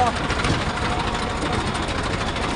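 A tractor engine rumbles steadily nearby with a rough, throbbing drone that doesn't let up.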